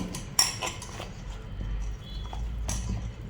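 Cooked pizza topping is stirred in a pan with a metal utensil, giving scattered close clinks and scrapes against the pan over a low hum.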